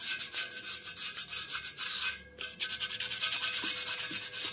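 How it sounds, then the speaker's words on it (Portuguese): A car wheel is sanded by hand with 100-grit sandpaper, giving a loud, steady back-and-forth rasping scrub with a brief pause partway through. "vou quebrar com a 100, que é a lixa número 100"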